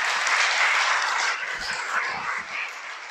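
Congregation applauding the Creator at a religious sermon, a broad wash of dense clapping sustained throughout, fairly loud and steady with no talk over it.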